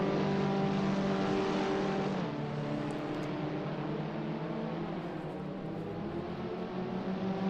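Caterham Academy race cars of about 125 horsepower lapping the long Silverstone GP circuit, a steady dense engine roar with shifting tones as several cars run together, loud and continuous with no talk.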